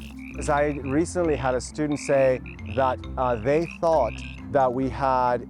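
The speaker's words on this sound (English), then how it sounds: "this chorus of frogs, the male frogs calling for the females" Male frogs chorus at a spring pond, a steady layered background of croaking calls running beneath someone talking continuously in the foreground.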